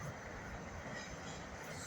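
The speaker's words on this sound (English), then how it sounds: "GE Silverliner 4s here." A SEPTA GE Silverliner IV electric commuter train rolls past Jenkintown station as a steady, broad rumble and rush of wheels and motors that holds evenly from start to finish.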